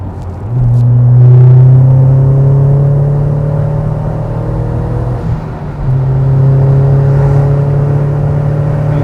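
A Seat Leon Cupra R with a 1.8T engine revs hard while driving, its loud steady engine note climbing in pitch, dipping briefly around the midpoint as it shifts, then rising again, with no one talking.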